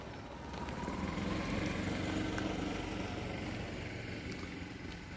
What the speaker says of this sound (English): A lot of lawnmower guys out today.